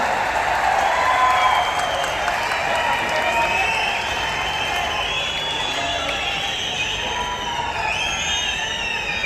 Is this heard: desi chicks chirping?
no